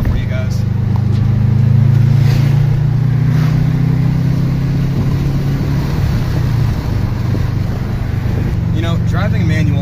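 Manual-transmission car engine accelerating, recorded from inside while driving; a loud, steady low drone rises gradually in pitch and continues throughout with no speech.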